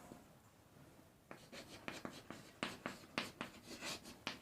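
Pen or marker writing out matrix row operations for a class 12 maths lesson, a run of scratchy strokes and taps starting after a quiet second, close and fairly soft, with no talking.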